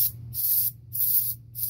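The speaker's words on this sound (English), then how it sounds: "you can take some compressed air" Compressed air blasted into a Sega Genesis Model 2 cartridge slot in three short, loud hissing bursts with brief pauses between, close up over a low background hum.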